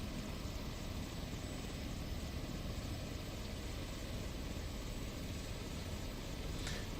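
An Airbus H145 air ambulance helicopter idles its engines in Microsoft Flight Simulator, a constant dense whine and rotor rumble that holds level throughout without any voices.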